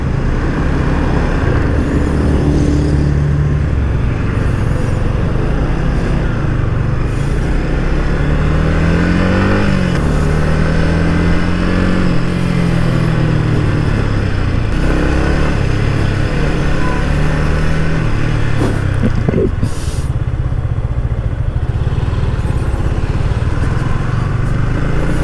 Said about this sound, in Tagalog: Yung idle tunog niya ng makina every time na mag-change oil ako and then change spark plug.